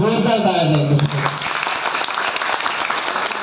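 An audience at a Buddhist vihara gathering for Ashwin Purnima and Dhammachakra Pravartan Day breaks into loud, sustained applause that rises just after a voice finishes speaking and fills the hall to the end.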